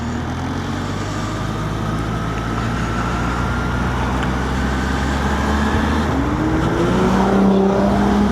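Steady, loud engine drone of a passing car heard from beside parked motorcycles on a sunny day, with a rising tone near the end as the vehicle draws closer and passes.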